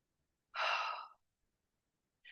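One deep, slow exhale, close and soft, followed by silence and the start of another breath.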